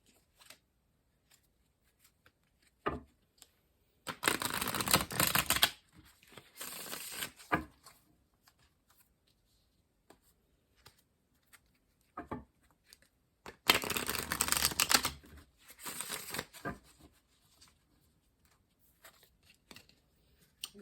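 Tarot cards are shuffled in two brisk riffling bursts, separated by quiet stretches with occasional soft taps and handling noises, close and clear.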